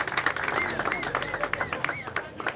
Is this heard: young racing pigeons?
no